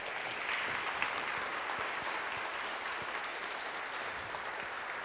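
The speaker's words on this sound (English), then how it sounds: "Can we just clap our hands for all of our veterans today?" An audience applauds veterans at a 2014 Veterans Memorial Ceremony: steady, dense clapping holds at an even level for the whole stretch, with no talk over it.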